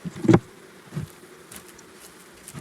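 Honey bees buzzing softly in a hive box, with a few louder close buzzes standing out against a quiet hum.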